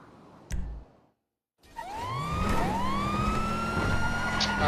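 A police siren wails in rising and falling sweeps, loud and close, after a short burst of noise and a moment of silence. A low engine rumble runs beneath it.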